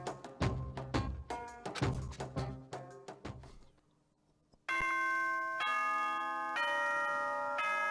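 A doorbell-like ding-dong chime from the video game Danganronpa: Trigger Happy Havoc rings out in a run of bright, decaying bell tones, then gives way to a sustained, layered electronic tone.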